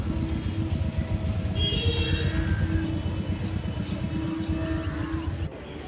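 A train at Palta railway station rumbles steadily nearby with wheel squeal and clattering, a constant loud roar that drops slightly near the end.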